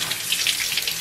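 Tap water runs steadily from a kitchen faucet over a frozen pork belly being rinsed, a close, continuous splashing hiss with no voices.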